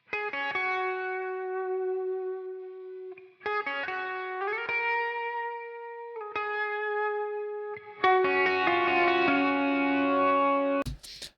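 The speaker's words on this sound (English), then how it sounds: "there's like a lead part that's a little more chorusy" Electric guitar lead line played through a chorus effect, sustained shimmering notes and slides with a bright chord swell near the end, clean and alone without voices.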